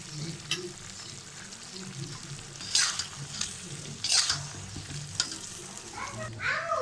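Chopped onions frying with chicken in a pot give a soft steady sizzle, with a few louder scraping stirs scattered through, close by and without speech.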